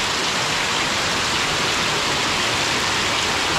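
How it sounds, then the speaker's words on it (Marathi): Heavy monsoon rain pours outside in a rural Konkan village in Devgad, a loud, steady, dense hiss that never lets up, with no voices. "काय रे पाऊस लागता बाहेर"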